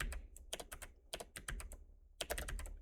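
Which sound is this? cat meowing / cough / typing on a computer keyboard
typing on a computer keyboard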